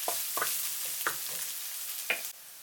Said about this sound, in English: When the oil is hot, put the grated ginger and the chopped garlic.